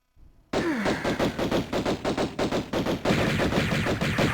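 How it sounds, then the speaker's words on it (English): Rapid handgun shots from a powerful enemy in Tomb Raider Remastered inside Natla's Mines, loud close bursts in a quick irregular rhythm after a brief quiet lead-in, with no voices. "Oh my sweet god, he has very powerful handguns."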